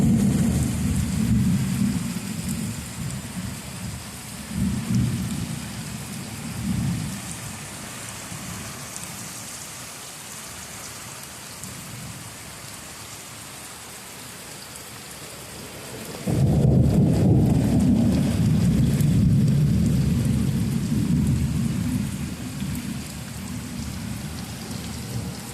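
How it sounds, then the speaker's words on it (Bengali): A heavy thunderstorm recorded on a rooftop, with steady rain hissing throughout and deep rolling thunder swelling in several long rumbles, the loudest lasting several seconds near the end. "প্রচুর পরিমাণে মেঘ ডাকছে আর বিদ্যুৎ চমকাচ্ছে"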